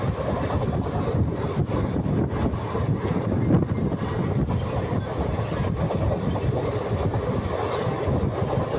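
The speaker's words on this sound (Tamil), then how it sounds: "வண்டி அது பாட்டு பிச்சுட்டு போகுதுங்க" A passenger train running between Virudhachalam and Tiruchirappalli, heard from inside as a steady loud rumble with wind noise and the rhythmic clatter of wheels on the tracks.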